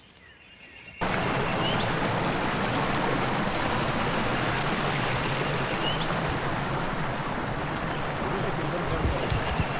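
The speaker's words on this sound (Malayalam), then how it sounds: "അരുവി" A forest stream flows steadily at Dandos Camping Ground in the Otway, a continuous soft rushing of water that starts after a brief quiet moment and carries on evenly, with faint birdsong above it.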